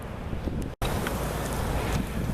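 Wind blows near a monastery fence, a loud, steady, rushing roar buffeting the microphone, broken only by a brief moment of silence before it surges back.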